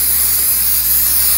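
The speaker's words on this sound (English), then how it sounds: "I'm just gonna spray this down." Cleaner is sprayed onto the rear hub of a Chevy/GMC Silverado dually truck during a rotor change, a loud, close, continuous aerosol hiss with no pauses.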